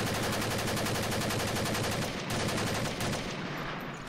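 Rapid automatic gunfire in a Pokémon-style video game with guns, a loud continuous stream of shots running the whole time with no pauses.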